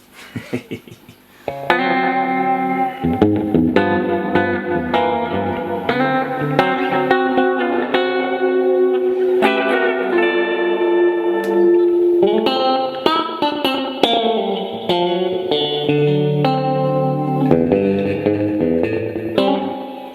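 Electric guitar played through a Catalinbread Adineko delay pedal, ringing chords and melodic notes with repeating echoes and reverb trails, loud and close for the whole stretch without talk.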